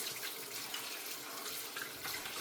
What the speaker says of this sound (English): Our culture, we wash our rice and we wash our meat.